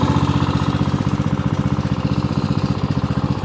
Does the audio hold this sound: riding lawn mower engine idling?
yes